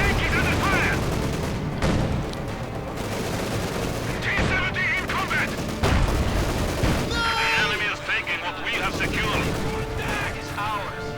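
Machine gun fire from a Panzer IV in a World War II strategy game rattles in quick bursts amid a busy battle din of shots and booms, with a commentator talking over much of it.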